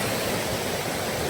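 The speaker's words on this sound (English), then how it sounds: "there is kind of a neat little waterfall over here" A small waterfall and flowing stream in flooded Arkansas backcountry make a steady, close rush of water, a broadband roar with no pauses.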